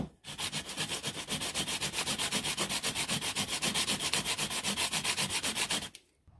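Hand sanding of an Ansonia clock part, a steady run of rapid back-and-forth rasping strokes close up, even and continuous for about six seconds before stopping, no talking.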